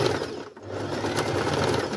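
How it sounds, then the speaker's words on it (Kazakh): A sewing machine runs steadily while stitching a kamzol, a traditional Kazakh vest, close and fairly loud, with a brief slowdown partway through before it hums on continuously. "тігіп алып шығамын."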